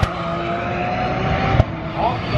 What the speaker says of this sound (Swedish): vi släpper ut Porsche Carrera Cup på deras första kval